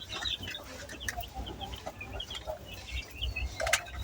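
Several young farm chickens cluck and murmur close by in a continuous, overlapping chatter, with occasional sharper calls.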